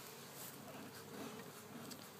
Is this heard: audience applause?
no